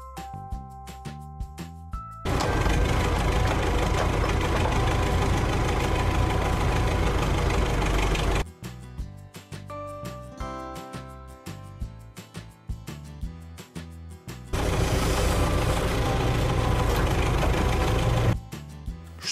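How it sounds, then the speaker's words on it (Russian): A tractor's engine runs at idle with a steady, loud, continuous rumble in two long stretches, separated by a lighter segment of clattering, knocking mechanical noise, with no talking. "А вот и трактор уже подъехал."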